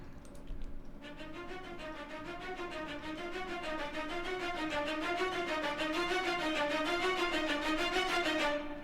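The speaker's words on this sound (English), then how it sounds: "spiccato strings," Short, bouncy bowed string notes repeat in a quick, even rhythm, swelling gradually louder over several seconds before stopping.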